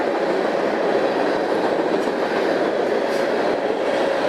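A freight train of boxcars rolls past close by, making a loud, steady rumbling roar with faint rattling and clatter throughout.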